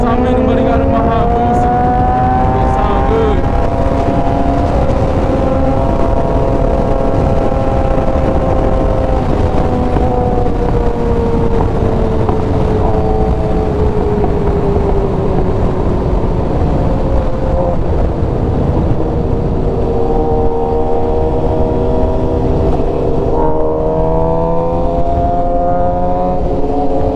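Suzuki GSX-R 750 motorcycle engine droning loudly while riding, its pitch rising and falling as the revs shift through gears, continuous over nearly half a minute with steady wind rush.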